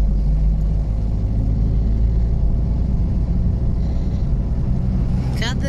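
A car drives over a bridge across the Gauja river near Kadaga, with a steady, loud low engine and road rumble close by throughout and a brief rising whine near the end.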